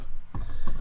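Several keystrokes on a computer keyboard entering a Linux install command, two short bursts of clicks close by and fairly loud, with no one speaking.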